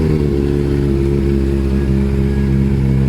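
Near, loud four-cylinder Triumph TT600 motorcycle engine running steadily with a deep, even drone throughout, no clear rise in revs and no talking.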